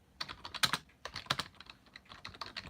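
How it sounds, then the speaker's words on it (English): Rapid bursts of clicky keystrokes on a computer keyboard, close and uneven in rhythm with brief pauses between flurries, and no talking. "I'm just typing to them."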